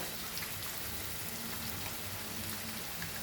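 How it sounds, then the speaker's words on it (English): Onion frying in a pan for a stuffed brinjal masala, giving a steady, dense crackling sizzle like light rain that stays continuous and even throughout with no talking. "Fry the onion nicely."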